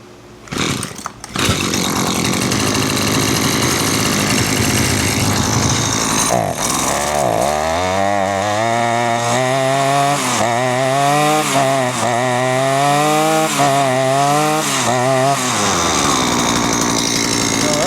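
A Husqvarna 223L string trimmer's small two-stroke engine starts after a couple of pulls, then runs loud and close. Its buzzing pitch rises and falls repeatedly as the throttle is blipped.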